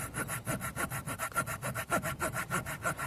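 The saw blade of a Ruike LD32 multitool knife cuts steadily through a wooden bench in quick, even back-and-forth strokes, close up and regular, with no talking.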